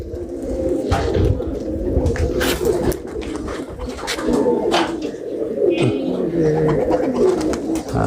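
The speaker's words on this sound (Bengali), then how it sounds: "এটা একটা চমৎকার কবুতর" Racing pigeons coo nearby in repeated throaty rolls over a low background murmur, with occasional human talk mixed in.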